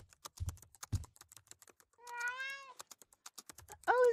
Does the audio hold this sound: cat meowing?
yes